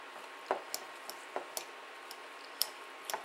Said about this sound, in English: Stir this up a little bit.